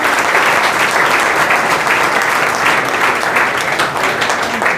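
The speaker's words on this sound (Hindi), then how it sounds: "एक बार दिल से तालियां" Sustained applause from an audience at a motivational coaching event in Mukherjee Nagar, a dense, steady wash of clapping that stays loud and even from start to finish.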